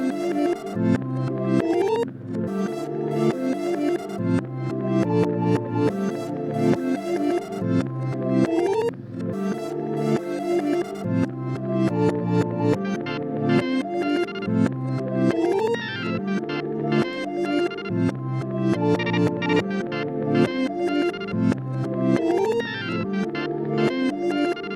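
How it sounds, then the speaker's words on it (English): A synth melody rendered to audio and played in reverse produces dense, swelling tones. Notes fade in and cut off abruptly in a steady looping pattern, loud and continuous throughout, with no voices. "I rendered the whole melody to audio and I reversed it"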